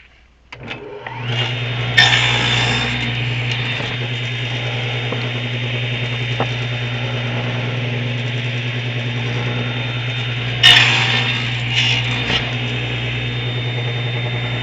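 A power tool cuts through old wood while making copper wind chimes, with a loud steady motor whine held throughout and brief bursts of rougher cutting noise near the start and end.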